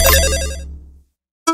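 A bright notification bell chime rings with layered tones, fading out over about a second, then a short second chime starts after a brief silence.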